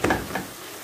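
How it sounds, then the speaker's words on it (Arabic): Onions sautéing in a pan for a Moroccan mini pastilla filling, a brief stir with two quick scraping bursts followed by a soft, steady sizzle, close and fairly quiet. "ودابا غادي نبدا نشحر فيها حتى تطيب"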